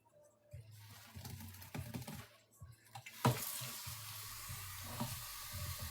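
Cold water pours steadily into a tub of overflowing laundry suds from powder detergent, a hissing, splashing rush that swells suddenly midway and keeps running to the end.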